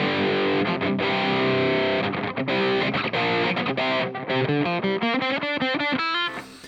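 Heavily distorted electric guitar through a Nalex amp simulator modeled on a Friedman amp chugs through palm-muted riffs and ringing chords, dry and loud, with no effects, other instruments or voices.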